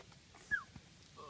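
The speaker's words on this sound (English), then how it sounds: "This dog is driving me nuts." A dog whimpers once, a short faint high whine rising and falling, with quiet indoor background around it.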